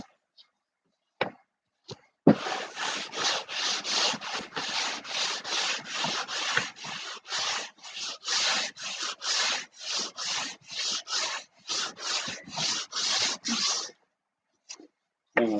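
Lighter grit sandpaper rubbing along a wooden turtledeck for a Sig Kougar model airplane, a close, steady series of quick back-and-forth scratchy strokes after a few isolated taps, with no talking.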